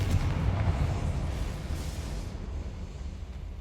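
The Confringo fire blast spell in Hogwarts Legacy sets off a heavy, rumbling explosive boom that starts loud and decays into a rolling low roar over several seconds, with no talking.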